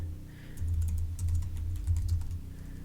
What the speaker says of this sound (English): then just start typing